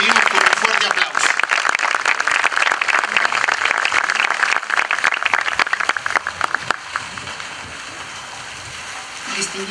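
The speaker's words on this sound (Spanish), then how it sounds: "la recibimos con un fuerte aplauso" An outdoor crowd in a plaza applauds an ambassador at a commemoration of the Armenian genocide anniversary. Thick, rain-like clapping fills the first seven seconds, then drops away as a voice begins speaking.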